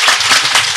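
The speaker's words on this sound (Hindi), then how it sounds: "जोर की ताली मारो, जोर की ताली।" Audience applause rings out loudly and continuously at a spiritual discourse on the Gita, a dense, steady clatter of many hands clapping together.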